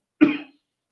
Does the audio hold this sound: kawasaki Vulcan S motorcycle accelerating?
no